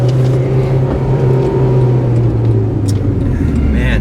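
Honda Civic Type R FD2 driving a mountain touge road, its engine humming steadily and loud from inside the cabin with road noise beneath, held at an even pitch with no talk.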